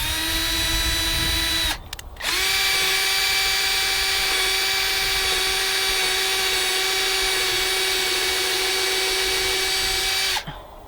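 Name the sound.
power drill pre-drilling a hole for deck cable railing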